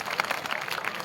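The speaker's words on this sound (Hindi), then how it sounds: "इनके लिए सबसे पहले आप ताली बजाइए।" A crowd at a tribal rally for World Indigenous Day gives a dense, steady round of applause, many hands clapping together in a brief wash of sound.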